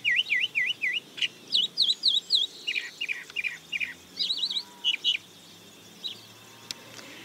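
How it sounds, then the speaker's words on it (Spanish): A chalk-browed mockingbird sings a varied, repeated series of clear rising whistled phrases and chirps, fairly close and alone against quiet background. "La calandria es muy cantora, tiene la facilidad de imitar el canto de otras aves."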